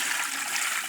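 Water poured out of a container that has a little sand settled at the bottom, a steady splashing rush lasting about a second with no voices.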